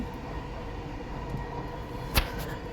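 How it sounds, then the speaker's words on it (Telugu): A driverless Dubai Metro train rolls steadily along with a low rumbling hum, heard from on board, and a brief sharp clack sounds near the end. "అయితే ఇక్కడ డ్రైవర్ ఎవరు లేరు, ట్రైన్ వెళ్ళిపోతూ ఉంది"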